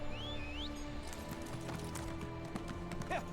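Horse hooves clip-clopping in a video game, a quick run of light, evenly spaced hoof taps over steady background music and ambience.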